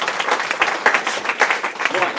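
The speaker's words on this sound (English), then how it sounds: "Give him a round of applause, that was excellent." A lecture-hall audience applauds speaker Torsten at a keynote event, a steady patter of clapping over two seconds with some voices mixed in.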